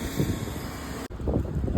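Strong gusty wind outdoors buffeting the microphone, a rough low roar that briefly cuts out and then returns.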